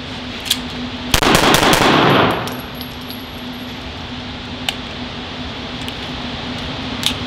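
A Glock 19 pistol in a Full Conceal M3 folding frame fired in a rapid string of several loud, close shots over about a second, leaving a ringing tail, then a faint steady hum with a few small clicks.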